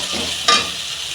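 Ginger and chili powder masala sautés in a pan for an eggplant and prawn curry, a brief close sizzle with one quick scraping stir in the middle, no voices.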